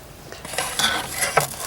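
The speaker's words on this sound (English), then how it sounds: "Let 2 of these pans slide in here." Two stainless steel pans slide into a GoSun solar cooker, giving light metallic scrapes and small clinks close at hand over a quiet room.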